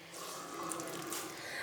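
Water squeezed by hand out of grated potato for homemade hash browns, a steady close trickle and splash falling into a bowl, continuous for under two seconds with no talk.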